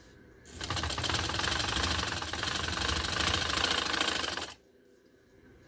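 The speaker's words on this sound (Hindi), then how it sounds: "ये सिलाई मैं यहाँ लगाने लगी" An electric sewing machine runs steadily for about four seconds, stitching a front-pleated blouse, a close, loud, rapid mechanical whir and knock that starts and stops abruptly.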